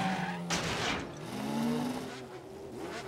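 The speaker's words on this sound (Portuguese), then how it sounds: "Os motores estão esquentando! Os pilotos estão se alinhando!" Cartoon race car engines rev and roar at the start of a race on a medieval-fair track, with a skidding, rising whine over continuous loud background sound.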